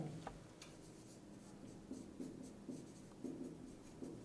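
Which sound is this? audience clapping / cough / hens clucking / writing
writing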